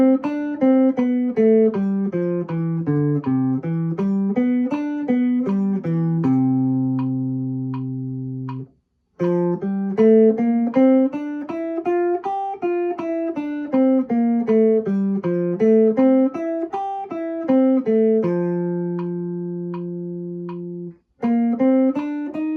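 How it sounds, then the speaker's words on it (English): Instrument playing all twelve major scales through the cycle of fourths, running steadily up and down in even notes with held chords between scale sections, clean and close without talk. "I will demonstrate for you playing through the cycle of fourths, all 12 major scales"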